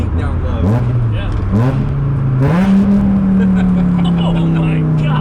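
A Volvo 850 estate engine fitted with custom individual throttle bodies and headers revs at low RPM, a deep rising drone that climbs in steps and then holds steady, loud and close, with people talking over it.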